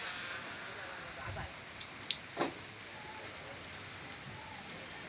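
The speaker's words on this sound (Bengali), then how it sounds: "এই যে এখান দিয়ে খুব বাতাস এবং বৃষ্টি হইতেছে" Rain and wind in a village, heard as a steady, moderately loud broadband wash of rain and gusts, with a few sharp knocks and drips rising over the constant hiss.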